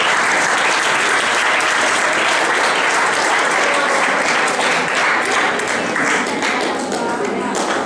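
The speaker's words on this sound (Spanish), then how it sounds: "Gracias, un aplauso para este grupo." Students in a classroom give a group of classmates steady, continuous applause, loud and close throughout, with no pauses or talk standing out.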